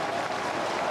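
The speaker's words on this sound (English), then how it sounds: "Applause for Brad Ottens as he comes from the ground." A big crowd at a Geelong versus Western Bulldogs Australian football match applauds a player leaving the ground, a steady dense patter of clapping from across the stands.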